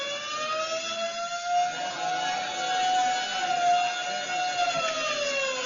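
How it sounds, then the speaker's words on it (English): Shrieking wailing siren from a prison alarm in an old Superman radio drama, a steady rising-and-falling tone held loud and close throughout with dense whirring layers, no voices. "suddenly the quiet routine of the prison is broken by frantic bells and the shrieking wail of the siren"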